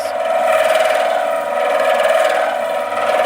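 A woodturning tool chatters against wood spinning on a lathe, giving a loud, steady buzzing vibration with a rapid rasping pulse, close and uninterrupted throughout.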